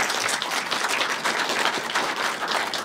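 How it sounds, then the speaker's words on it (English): Warm applause from a film-screening audience honoring guests present, a full, close round of clapping with rhythmic pulses that stays loud and steady throughout. "we could just give a round of applause for them"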